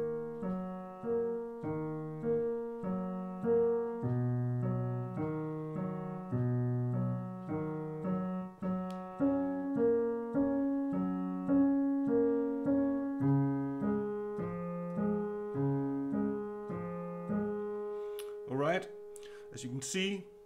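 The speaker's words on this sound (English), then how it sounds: "Left hand alone sounds like this." Piano left hand plays the chord pattern from a song, a steady rhythmic sequence of repeated low chords, close and clear, with a short burst of other sound at the very end.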